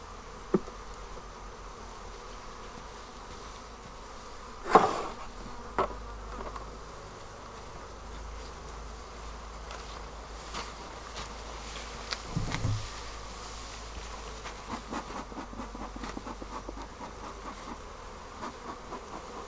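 Honey bees buzz around an open hive in a low, continuous hum, with a few sharp knocks and clicks scattered through it and no voices.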